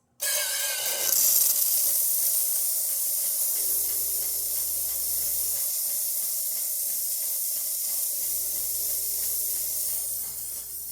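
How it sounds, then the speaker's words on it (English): Steam wand on a Saeco HD espresso machine hissing steadily and loudly for about ten seconds, a broad continuous spray of steam close to the microphone with slight shifts in low rumble underneath. "And the steamer."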